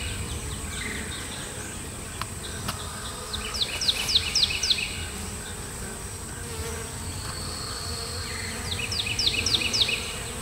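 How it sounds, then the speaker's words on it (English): A steady, close buzzing drone of many honeybees swarming around a swarm trap outdoors after rain, with repeated bird chirps over the hum. "There's a lot of bees, though."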